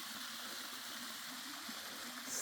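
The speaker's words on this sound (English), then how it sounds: "another cool waterfall, eh?" Steady broadband rush of a waterfall feeding a clear creek in the Gondwana rainforest near Copeland, New South Wales, continuous and fairly close with no speech over it.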